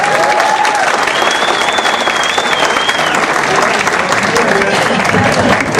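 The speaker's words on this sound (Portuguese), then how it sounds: "Agora vão ser palmas em dobro." An audience applauds continuously and loudly at a live event, a dense wash of clapping with whistles and voices over it.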